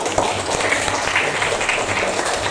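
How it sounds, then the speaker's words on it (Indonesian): Audience applause after a question-and-answer segment at a teachers' training session on coaching for academic supervision, a steady broadband wash of many hands clapping together throughout, fairly loud and without talk. "masih ada tepuk tangan buat Mbak"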